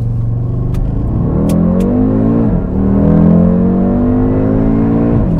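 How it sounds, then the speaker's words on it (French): The five-cylinder engine of an Audi RSQ3 Sportback revs hard at full throttle, its growling drone rising in pitch, dipping briefly at a gear change, then climbing again, loud and close. "Oh, le bruit du 5 cylindres"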